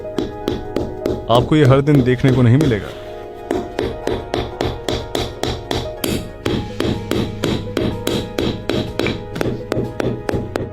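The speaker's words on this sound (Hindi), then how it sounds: "यहाँ के लोग जरूरत पड़ने पर जमे हुए फलों को हथौड़े की तरह भी इस्तेमाल करते हैं।" A frozen banana is used as a hammer in the extreme cold of Yakutia, around minus 50 to 65 degrees: sharp, hard, evenly spaced knocks repeat close by, with a voice talking over the first few seconds.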